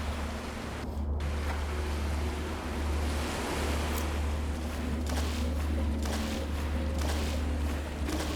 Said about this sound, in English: We're swimming into the cold water in the dark night.